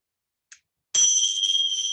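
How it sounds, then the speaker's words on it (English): A bell rung to open a yoga session gives one bright, loud strike after a faint tap, then a sustained, slowly fading ring in a quiet room. "just ring the bell"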